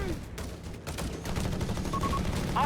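An off-map artillery strike pounds a base in a Company of Heroes 3 match between DAK and USF forces, a dense rumbling run of blasts rolling on continuously and loudly for a couple of seconds.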